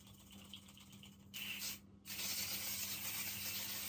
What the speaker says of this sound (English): you have to put on the setting spray.